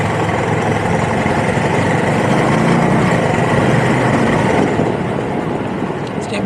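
Cruiser motorcycle engine droning steadily while riding, loud and close with constant wind-like rush and a low rumble that stays even throughout, no clear speech.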